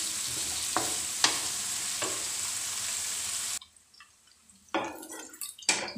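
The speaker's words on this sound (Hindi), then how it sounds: "प्याज हल्का ब्राउन हो चुका है" Onions browning in hot oil in a pan for a dum tinda curry, with steady sizzling and a few scraping stirs, then a quieter stretch before more stirring clatter near the end.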